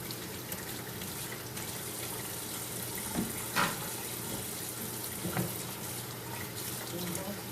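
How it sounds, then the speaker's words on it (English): Rice being rinsed under a running kitchen tap, a steady broadband water rush with a couple of brief splashes and clatters of grains and bowl; a voice speaks faintly in the background. "Rinse it very, very well."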